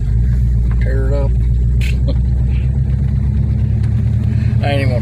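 A 1963 Plymouth Belvedere push-button wagon pulls away in first gear, its engine giving a loud, steady low rumble from inside the car, with someone talking briefly over it.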